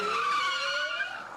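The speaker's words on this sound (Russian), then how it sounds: "Рев моторов, визг тормозов и дымящиеся шины." Car tires squealing during a stunt driving show: a loud, continuous skidding screech that slowly rises in pitch, close and sustained over more than a second, with engine noise underneath.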